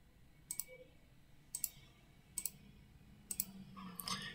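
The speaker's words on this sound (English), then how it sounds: "I'm going to hold down the Alt key and click everywhere where I want to type" Faint mouse clicks at a computer while the Alt key is held in VS Code, four evenly spaced sharp clicks followed by a small cluster of keyboard taps, quiet and alone.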